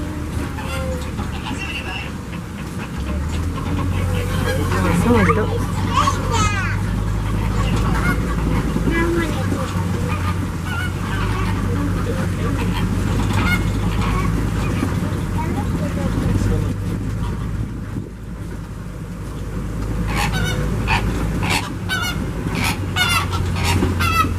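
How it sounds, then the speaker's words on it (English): A flock of greater flamingos at a wildlife park calls with a steady chorus of goose-like honks, close and continuous over a low background hum and murmuring voices. "Looks like we've come across a flock of greater flamingo."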